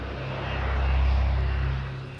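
A jet fighter aircraft flying overhead, a steady loud roar that swells to a peak in the middle and then eases off slightly.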